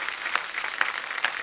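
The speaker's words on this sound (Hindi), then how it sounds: "एक बार जोरदार तालियां" Audience applause greets guests on stage at a Hindi talk event, a steady crackle of clapping with a few louder bursts, moderately faint and with no talk over it.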